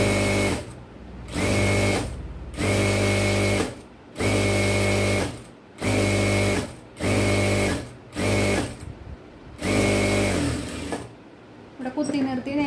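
A sewing machine stitches a fabric strap for a frock nightie in loud, close bursts of rapid whirring, each run lasting a second or so and separated by short pauses.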